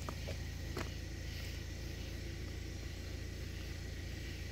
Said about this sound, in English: excuse the car being in the background here